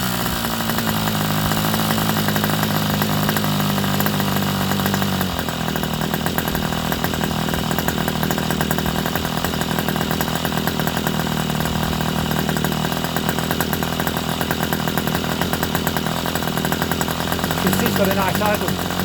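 An Irvine 61 glow model engine runs loud and steady, starting at a higher buzzing pitch before dropping after about five seconds into a lower, even idle that continues to the end.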